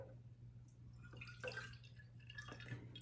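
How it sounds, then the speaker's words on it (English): Thick ginger shot juice is poured into a container, making soft, faint dripping and glugging liquid sounds over a low steady hum. "So what I do, I'm going to pour it in here."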